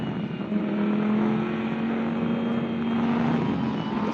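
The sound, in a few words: Lamborghini race cars behind safety car at Portimao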